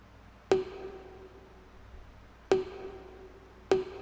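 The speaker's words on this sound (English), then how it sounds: "Oh, a bottle sound" Three hollow, pitched bottle-like knocks sound in a sparse beat, each with a short ringing decay, close and clear.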